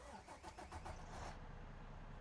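A used truck's engine in American Truck Simulator cranks and catches, a quick series of churning starter pulses that settles into a low, even idle, heard faint and alone.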